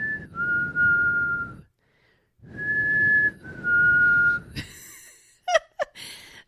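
A person whistles an imitation of a creepy whistle: long sustained tones in two phrases separated by a pause, close and clear, followed by short breathy gasps.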